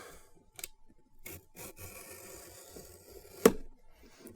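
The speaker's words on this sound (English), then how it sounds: "Gonna cut that seal." A razor blade slicing through the seal on a cardboard subscription box: a few quiet scraping cuts followed by a sharp, louder slit near the end, close up with no talk.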